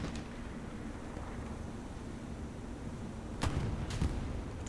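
A Panzer IV tank fires back in a World War II tank game, two sharp booming shots near the end over a low steady rumble of engine and ambient battle noise.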